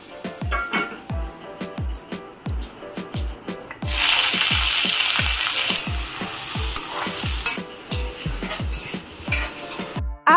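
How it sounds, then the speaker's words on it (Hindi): Chunks of capsicum and paneer being stirred and sautéed in a hot pan, with a steady sizzle and repeated scraping strokes of a spoon against the metal, close and fairly loud, and a brighter burst of frying hiss partway through. "यहाँ पर ना मैं सॉर्टेड वेजिटेबल्स बना रही हूँ, जिसके लिए मैंने कैप्सिकम और पनीर को अच्छे से मोटा मोटा कट कर लिया है।"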